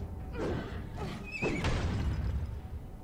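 A horse neighs in the video game Alice Madness Returns, a whinnying call rising and falling over a low background with a few soft thumps and hoof-like sounds, heard alone without commentary.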